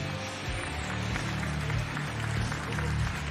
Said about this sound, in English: Crowd show their appreciation.